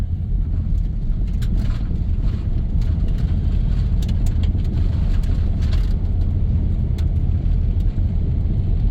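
A 1997 Dodge Grand Caravan SE, left on a farm for over four years, pulling in second gear with a constant, heavy low engine rumble and road noise throughout and no talking.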